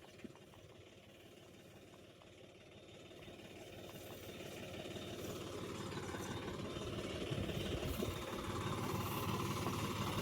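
A tractor engine runs steadily while pesticide is sprayed on custard apple trees in a farm field, a continuous mid-to-low drone with a faint knocking texture that grows gradually louder over the span, with no talking.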